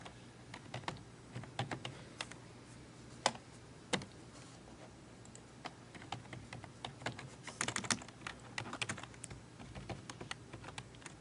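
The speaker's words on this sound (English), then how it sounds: "my typing is not great at the moment" Quiet typing on a computer keyboard in an office setting: irregular clusters of soft key clicks, fairly close, with brief pauses between bursts.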